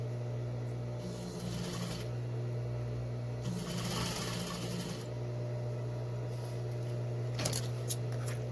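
A sewing machine runs in short bursts while stitching deep curves in quilt piecing, a steady low hum underneath, fairly quiet and close, with a few light clicks toward the end.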